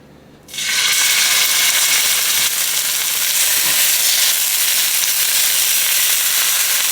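Steaks hit hot oil in a large pot with a sudden loud, roaring sizzle that holds steady and close for several seconds, with no voices over it.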